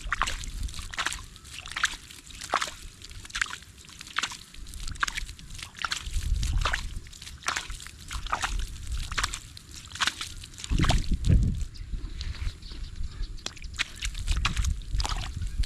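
Irrigation water flows and sloshes into a planted field, a continuous watery churn with repeated splashy surges under steady background noise, fairly close and moderate in level.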